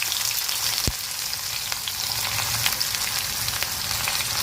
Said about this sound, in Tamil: நம்ம நறுக்கி வச்சுருந்தா சின்ன வெங்காயத்தை சேர்த்துக்கலாம்